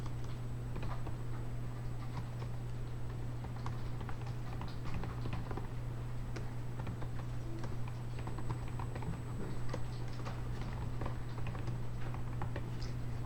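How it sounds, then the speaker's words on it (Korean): Faint, quick keyboard clicks tap away in irregular bursts as text is typed into a PowerPoint table cell, sitting over a steady low electrical hum with no talk. "여기다 첫 번째 셀을 클릭하고 입력해 보겠습니다"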